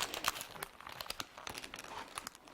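Plastic wrap crinkles and rustles in quick, close bursts as it is handled while a florist assembles a flower box, sharp crackles arriving in an irregular rhythm.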